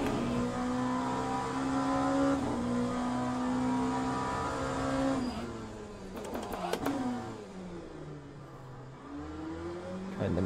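An Oreca 07 LMP2 race car in Le Mans Ultimate laps Portimao, its engine whining loudly and steadily before dropping through several quick downshifts with crackles, then climbing again under acceleration.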